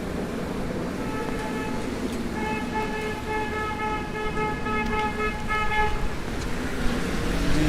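A car horn honks on a busy Brooklyn street, a sustained blaring tone that starts softly, then swells loud and holds for several seconds over steady traffic noise, no voices.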